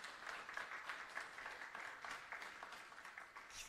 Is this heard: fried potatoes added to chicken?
no